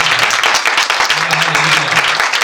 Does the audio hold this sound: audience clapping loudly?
yes